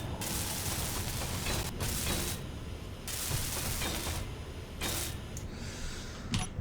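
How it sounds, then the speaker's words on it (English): Welding blocks in Space Engineers, bursts of loud hissing, crackling spray that start and stop in several separate runs of a second or so, with brief quieter gaps between them and no voices. "Alright, let's go weld these up."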